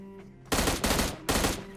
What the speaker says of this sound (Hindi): अब इसके बाद मेरे को गन फाइट के साउंड इधर से आते हैं